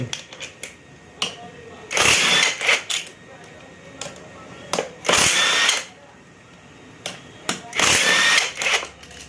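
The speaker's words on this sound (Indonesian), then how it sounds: "Saya melalui dengan kunci impact dulur. Ini sama pala bautnya dengan ukuran 8." Impact wrench loosening size 8 bolts while stripping down a Byson Fi motorcycle, three loud bursts of rattling hammering about a second long each, separated by quieter gaps with light clicks and tool handling.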